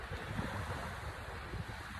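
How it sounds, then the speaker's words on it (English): Small waves wash steadily against the shore of a freshwater Finger Lake in New York, making a continuous broadband rush mixed with wind buffeting the microphone. "you hear those waves"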